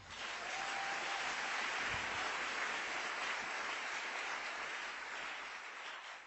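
A church congregation applauds and cheers in a continuous, even wash of clapping and voices that holds steady for several seconds, heard from a distance in a large room.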